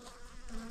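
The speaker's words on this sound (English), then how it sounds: "for the bottom of the hive, I'm just gonna let that bee go in" A single bee buzzing near the entrance of a wooden beehive, a short close hum that is faint and steady.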